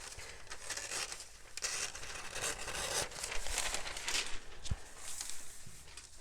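Scissors cut through a paper sewing pattern piece with a steady, close crisp snipping and paper rustle, fairly faint and without speech.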